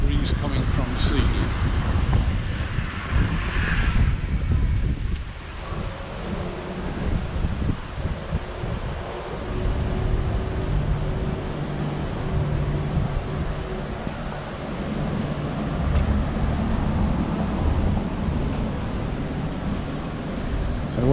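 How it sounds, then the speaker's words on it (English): A steady sea breeze blows hard across the microphone on the seafront at Cala Rajada, Mallorca, a continuous close, loud rushing roar that never lets up. "There's quite a breeze coming from the sea."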